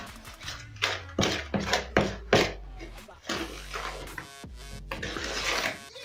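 Flour being mixed into chocolate chip cookie dough with a series of rhythmic thuds and scrapes at first, then softer continuous mixing noise, fairly quiet and close.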